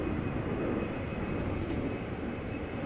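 An Embraer 190-series jet departing Amsterdam Schiphol for Birmingham produces a continuous engine roar with a thin high whine on top, steady and moderately loud for a few seconds.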